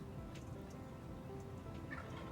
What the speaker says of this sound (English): Looks like a domestic turkey wandered into this flock